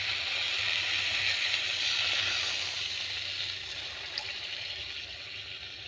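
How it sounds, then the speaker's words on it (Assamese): A glass of water goes into a hot pan of fried spices for a tomato fish curry. It sets off a loud, rushing hiss that slowly eases, with faint mechanical clicks underneath. "আৰু এতিয়া দিম ইয়াত এগিলাচ পানী"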